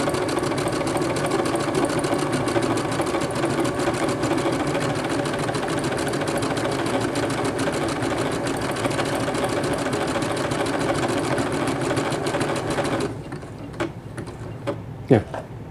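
A Brother PC 6000 sewing machine stitches through multiple layers of fabric in a steady, fast mechanical whir for about thirteen seconds, then stops, leaving a few faint clicks and handling sounds.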